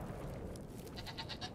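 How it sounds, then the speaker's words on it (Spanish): A goat bleats in the video game Brothers: A Tale of Two Sons. A short run of quiet, wavering cries sits over a soft, rumbling game ambience. "Mira qué cabrita más graciosa"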